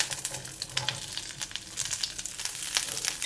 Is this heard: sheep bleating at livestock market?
no